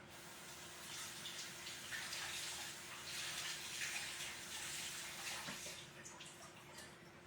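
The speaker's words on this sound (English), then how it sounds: "So I'm going to take about a handful of some cilantro. I'm going to rinse it." A handful of fresh cilantro is rinsed under a running kitchen tap, giving a steady, moderately quiet stream of splashing water that continues for several seconds with slight changes as the leaves move through the flow.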